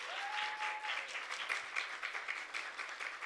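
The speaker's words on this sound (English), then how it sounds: "Round of applause for her," An audience at a Women in Media event breaks into applause, a dense, even patter of many hands clapping that holds steady at a moderate distance through the whole stretch.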